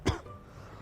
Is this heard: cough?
yes